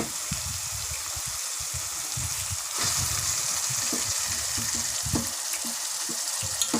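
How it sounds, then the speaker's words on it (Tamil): Onions fry with coriander and salt in a pan for chicken gravy, giving a steady close sizzle with occasional stirring scrapes and spatters and no talk. "நல்லா வதங்கட்டும்."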